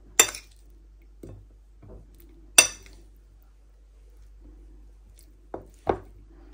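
A spoon picked up among dishes in a home kitchen, a few sharp metallic clinks and taps spaced out in quiet, close and clear.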